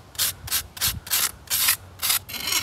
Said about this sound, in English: We'll use our sandpaper here.